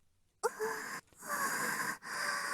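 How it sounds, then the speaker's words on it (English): Breathy voiced exhalations from a character in the visual novel ToHeart2, close and airy, in three long wheezing stretches split by short pauses. "The sound, or should I say a voice, sounds like someone breathing."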